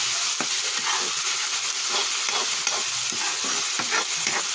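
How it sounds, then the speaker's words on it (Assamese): Local chicken meat fries and is stirred over a low wood fire in a rustic kitchen, giving a steady close sizzle broken by scraping stirs throughout. "এতিয়া এইখিনি মই কম জুইত কেঁচা গোন্ধটো যোৱালৈকে ভাজি লওঁ।"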